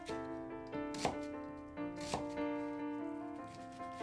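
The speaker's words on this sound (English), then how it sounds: "Chop up an onion into fine pieces." An onion being chopped into fine pieces with a knife on a cutting board, a few sharp distinct knocks against a quiet background.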